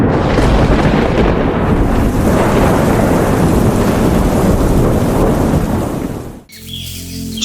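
Thunderstorm with heavy rain over the northern Masai Mara, a loud, continuous rumbling roar of thunder blended with dense rainfall for about six seconds before cutting abruptly to a quieter, different scene.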